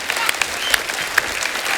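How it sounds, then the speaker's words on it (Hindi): Steady applause from a TV comedy show studio audience fills the clip, dense clapping with a few sharper claps standing out, fairly loud throughout. "एक बार जोरदार तालियां हो जाए"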